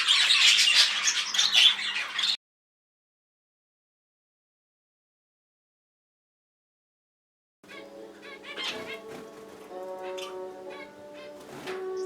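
Budgies chattering and chirping in busy, overlapping bursts, a short stretch then silence, then more warbling chirps at lower volume.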